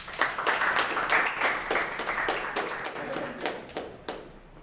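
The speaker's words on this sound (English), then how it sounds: "Toastmaster Kumaresan, with a big round of applause." An audience at a Toastmasters club meeting gives a round of applause, a steady burst of many hands clapping close by that thins out toward the end, with no talk over it.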